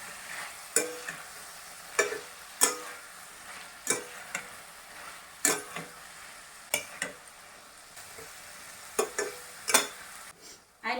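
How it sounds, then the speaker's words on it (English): Tomatoes and onions frying in a pan for a Bengali-style chicken bharta give a soft sizzle punctuated by a dozen or so sharp scraping stirs of a spoon against the pan, close and irregular. "Now I'll be adding tomatoes."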